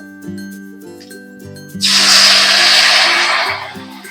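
Water is poured into well-fried spice paste in a pan for a taro and hilsa fish curry, producing a sudden loud hissing sizzle that lasts under two seconds over soft background music before fading.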